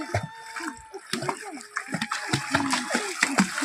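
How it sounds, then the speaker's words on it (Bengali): Water splashes and pours in irregular bursts as someone bathes outdoors on a hot day, close and lively, mixed with voices in the background. "স্নান করছে জলে এসে পড়ছে"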